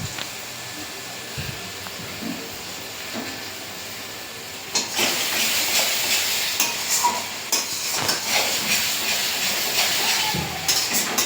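Spices sauté in a pan for a chicken dish, starting as a quiet background hiss and swelling after a few seconds into a louder, steady sizzle with occasional stirring scrapes.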